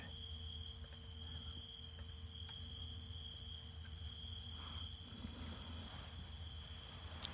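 Crickets chirping at night in a village, a steady faint high trill held continuously against quiet low background hum, no one speaking.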